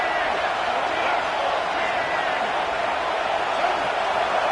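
A football stadium crowd roars for the defense as it tries to stop a red-zone drive, a dense, loud and continuous wall of cheering with no breaks.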